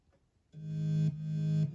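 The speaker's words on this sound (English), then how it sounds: "So I added 2 bass synthesizers just so it sounds more full." Two layered bass synthesizers play in a song instrumental, holding two long, distorted, buzzy low notes, each lasting about half a second, loud and alone after a short quiet start.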